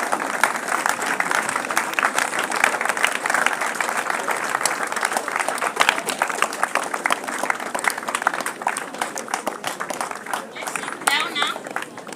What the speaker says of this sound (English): Kindly, let's stand up and clap for him as he comes until he reaches here